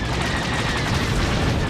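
Dense, continuous gunfire crackles in a video game, a loud, unbroken wash of rapid shots with no pauses.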